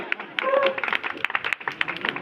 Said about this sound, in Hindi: अगर जोरदार तालियां आपकी बजती रहे